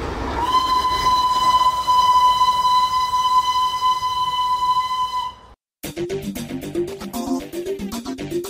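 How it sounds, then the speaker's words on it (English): Small mountain steam locomotive on a hill railway sounds a long, steady whistle for about five seconds, loud and close, then after a brief gap the chuffing, rattling train noise carries on. "Where else can you find a small steam engine pulling mini coaches up the steep mountains"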